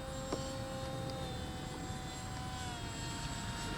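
Small foam RC fighter plane in flight, its electric propeller giving a steady continuous whine with a faint tonal drone throughout, fairly distant and unchanging, with no voices.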